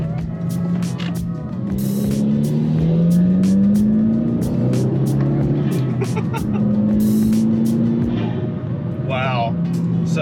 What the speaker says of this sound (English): I really hope the mic is able to capture the intake sound, because I can definitely hear it inside the cabin.